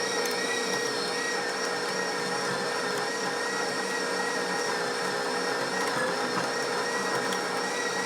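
KitchenAid grinder attachment grinding dried corn fine, a steady whining motor hum with a constant high tonal drone and gritty grinding texture, close and continuous throughout with no talking.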